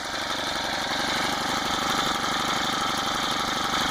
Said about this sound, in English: Starts right up. Idle's really nice.